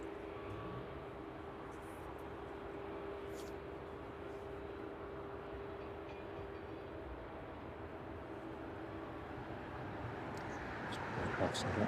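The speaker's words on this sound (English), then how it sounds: "that Ryanair 737 MAX on its final approach into East Midlands this evening" Ryanair Boeing 737 MAX on final approach into East Midlands Airport in the evening, a steady distant jet rumble and whine building slightly toward the end, with a voice talking over it.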